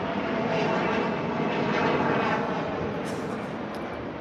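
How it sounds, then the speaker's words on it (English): A fixed-wing airplane passes overhead, a steady, loud engine roar that fills the whole clip with broad, even noise and no voices. "Hold on, another plane."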